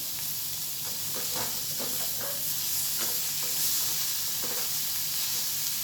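Bitter gourd fries with curry leaves in oil in a pan, a constant hiss and sizzle with soft, repeated scrapes of stirring throughout.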